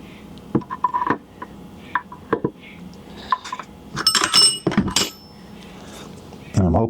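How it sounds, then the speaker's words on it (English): Metal washers clink and scrape sharply as a steel washer is worked onto the main shaft of a Jeep T-150 transmission during a 1976 CJ-5 rebuild, a series of close, uneven metallic taps and slides. "get this washer to cooperate, that should slide up on the main shaft there"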